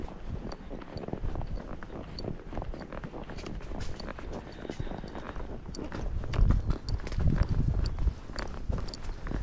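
Tennessee Walking Horse walking through muck on a trail, steady squelching hoof steps close by that grow louder and heavier toward the end.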